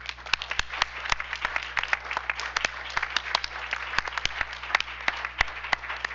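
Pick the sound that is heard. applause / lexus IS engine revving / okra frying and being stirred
applause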